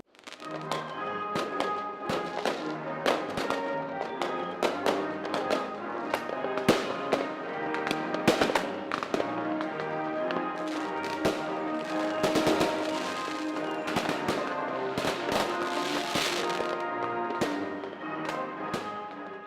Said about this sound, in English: the City of Torrance is going to light up the sky on 4th of July with its fireworks show